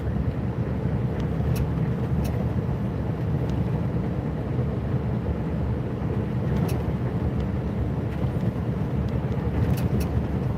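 Steady, loud V8 engine rumble with a deep low drone throughout, a heavy snowplow truck under load climbing an incline with faint higher turbo whooshing as it spools up; no talking.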